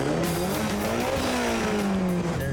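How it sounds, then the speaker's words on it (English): A rival car at a car competition, loud and close, its engine droning steadily with a rising then falling pitch as it revs and passes, a constant roar throughout. "Their car sounds really good, really healthy."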